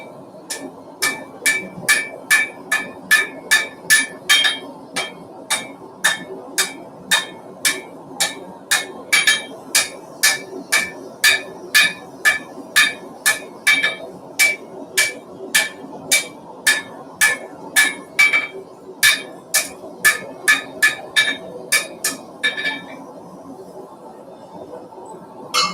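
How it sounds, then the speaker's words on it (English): A hammer strikes metal over and over in a steady, brisk rhythm, dozens of sharp ringing blows close by, with a brief irregular stretch near the end before the strikes stop. "Come down with the hammer."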